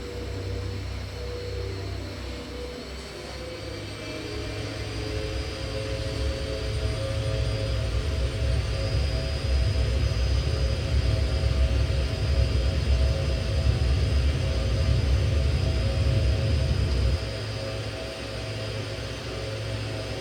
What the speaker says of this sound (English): So let's get airborne. We're still at Palomar. We're going to take off on runway 24,